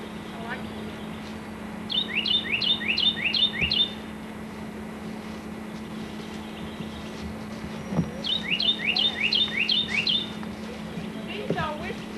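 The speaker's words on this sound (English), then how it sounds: "Oh, listen to that bird. The birds are so happy they sing all the time." Birds sing outdoors in spring in North Carolina, two clear bursts of rapid repeated chirps a few seconds apart over a steady low background hum, with a few softer calls near the end.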